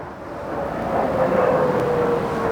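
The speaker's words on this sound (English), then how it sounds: "big fighter jet" A big fighter jet passes overhead outdoors, a broad roaring rumble that swells and holds steady with a faint whining tone running through it, loud and continuous with no speech.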